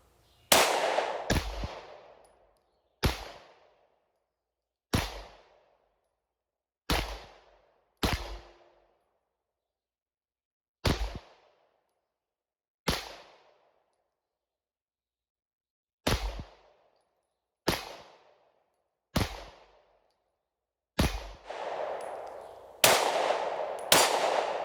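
Fourteen sharp pistol shots from a Smith & Wesson 30 Super Carry, loud and close, fired singly at irregular intervals with ringing tails, quickening into a tighter string near the end.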